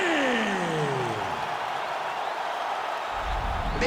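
Capacity arena crowd in the UFC 5 fighting video game roaring and applauding in a steady, dense wash of noise, with a whooshing sweep at the start and no talk over it.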